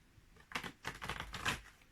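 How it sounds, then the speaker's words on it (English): Tarot cards being shuffled close by, a quick run of soft riffling flutters and slaps lasting about a second and a half, with no talk over it. "but I want to shuffle the cards in front of you."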